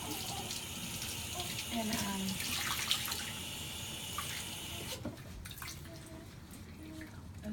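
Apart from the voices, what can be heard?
water running at a sink while washing a newborn's face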